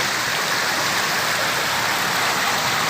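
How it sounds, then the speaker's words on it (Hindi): The Charan Ganga stream flows at a temple with a dense, steady rushing of water, continuous and fairly loud with no voices over it. "सामने वो बह रही है चरण गंगा।"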